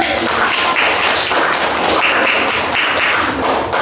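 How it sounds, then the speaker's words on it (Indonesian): Classroom applause from a group of students, a steady dense patter of many hands clapping close by, continuous and fairly loud for the whole stretch. "Boleh tepuk tangan."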